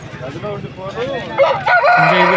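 A rooster crows close by, a loud strained call near the end, with clucking and farmyard noise before it, at Nallapadu rooster market.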